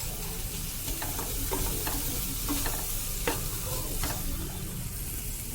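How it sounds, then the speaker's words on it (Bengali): Bottle gourd leaf paste frying together with shrimp in a pan, a continuous close sizzle broken by scattered spatula scrapes and taps as it is stirred. "এবার আমি এর মধ্যে দিয়ে দিলাম লাউ পাতা বাটাটা দিয়ে দিলাম।"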